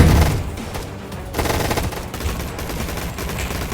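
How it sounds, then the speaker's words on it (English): Rapid machine-gun bursts and scattered gunshots fill a video game arena gunfight, loud and dense throughout with no break and no talk over it. "Who's shooting me?"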